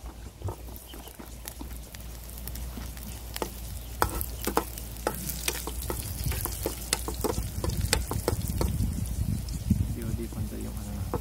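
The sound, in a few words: garlic frying in oil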